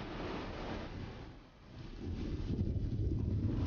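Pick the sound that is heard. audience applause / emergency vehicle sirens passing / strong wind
strong wind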